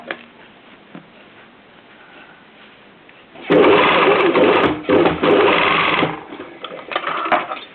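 A sewing machine stitches bias binding over a fabric edge, running loud and close for about two and a half seconds with a brief pause, after light handling noises.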